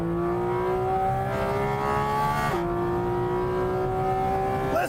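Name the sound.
Porsche Cayman engine accelerating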